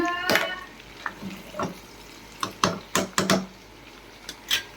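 Onions and green chillies frying in a pan, with several sharp stirring scrapes and clatters of a utensil against the pan over a soft background sizzle, close and moderately loud.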